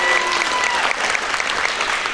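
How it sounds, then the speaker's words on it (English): Steady applause from a large audience at an awards ceremony, loud and continuous clapping filling the whole moment without pause. "One more round of applause for our education nominees."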